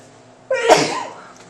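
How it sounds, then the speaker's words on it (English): A single sharp sneeze bursts out suddenly, close and loud, then trails off into quiet. "I don't know where those sneezes came from."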